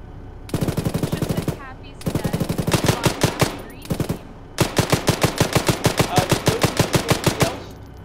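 Automatic gunfire in the military game Arma, loud and close, in rapid bursts separated by short pauses, with a faint voice in the background.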